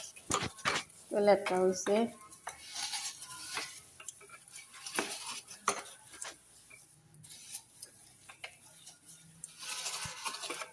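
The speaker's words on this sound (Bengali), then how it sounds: "থালা বাসন ধুয়ে স্ক্রাব দিয়ে দিয়ে সাফা করতেছি" Dishes, pots and pans clink and scrape during washing and scrubbing, a run of irregular close clatters and knocks, with a person talking briefly over the work.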